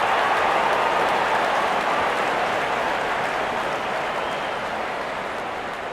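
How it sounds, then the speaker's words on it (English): A cricket stadium crowd applauds a batsman reaching fifty: a broad, dense roar of distant clapping that sounds almost like rain, sustained and slowly easing, with no voices. "Wonderful 50 and the crowd applauds."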